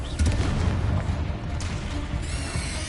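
A Confringo blasting spell explodes in Hogwarts Legacy, a dense booming burst with crackling rumble that fills the space, followed by further blasts and a lingering rumble.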